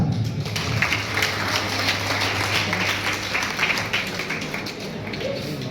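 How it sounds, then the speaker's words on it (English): An audience at an engineering college event claps steadily and fairly loudly for several seconds, making a dense, even wash of applause. "Big claps."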